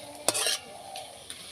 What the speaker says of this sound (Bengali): এবার তেলের মধ্যে এটা কয়েক সেকেন্ড নাড়াচাড়া করে নেব।